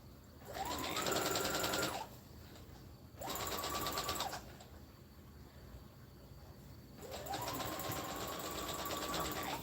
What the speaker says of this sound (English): I'm gonna back stitch because I'm getting ready to leave this little opening right here